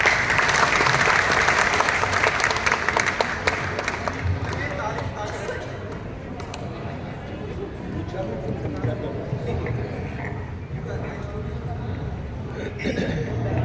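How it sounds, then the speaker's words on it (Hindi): An audience at a poetry recital breaks into loud, dense clapping that welcomes a poet, strongest at first and then easing into lighter, scattered claps that continue under a voice talking near the end. "जोरदार तालियों से स्वागत कीजिए"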